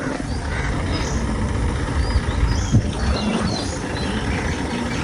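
A tractor engine rumbles steadily at a low idle in a field being prepared for rice planting, with faint background noise and no clear speech.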